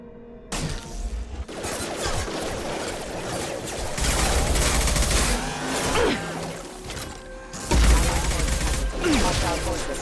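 Combat in Mass Effect 2 with sustained bursts of gunfire and impacts, loud and dense throughout, with whooshing effects and a heavier crash near the end, under occasional shouted voices.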